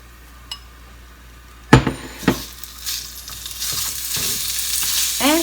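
Beef hits hot vegetable oil in a pan over medium heat while cooking niku udon. A few sharp clatters of the utensil are followed by a rising, steady sizzle, close up, with no talking.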